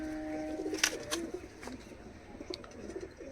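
Teddy pigeons coo in a loft, their soft, uneven calls layered over a low hum, with a few sharper wing or perch sounds near the start.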